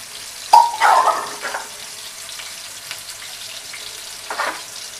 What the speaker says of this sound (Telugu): ఉల్లిపాయలు సుయ్యమంటున్నాయి.